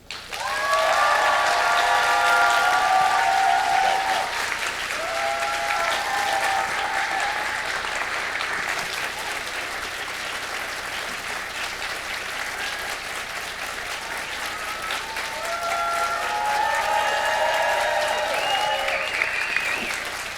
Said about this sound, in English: if you could prepare your applause hands, please welcome to the stage Mr. John DeLancie.